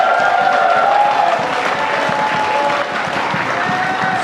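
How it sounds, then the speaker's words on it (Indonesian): A studio audience at a televised vice-presidential debate broadcast gives sustained, lively applause, a dense and steady roar of clapping with some cheering and a few voices beneath. "Saya minta tepuk tangan dong, sekali lagi dong, makin meriah nih suasananya."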